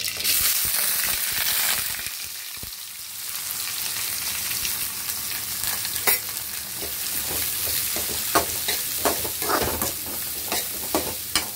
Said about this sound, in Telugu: కడాయిలో ఒక 2 స్పూన్లు ఆయిల్ వేసేసి జీలకర్ర ఆవాలు వేసుకోవాలి ఇందులోనే ఒక 3 ఆనియన్స్ ఇలా చిన్నగా కట్ చేసుకోవాలి